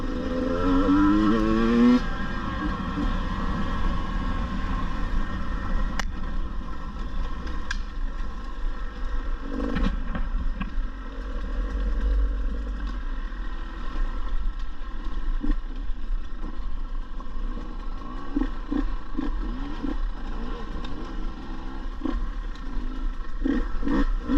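A 2022 KTM 150 TPI two-stroke motorcycle engine runs steadily and loudly while being ridden, with a continuous droning note and occasional rising revs through the gears, unbroken by talk.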